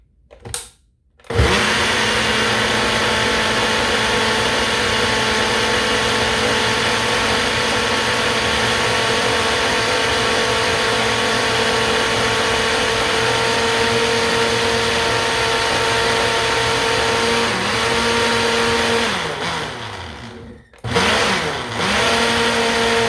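A blender whirs continuously through a strawberry and pineapple smoothie for about twenty seconds, loud and close after a brief start-up, dipping once near the end as it is stopped and restarted.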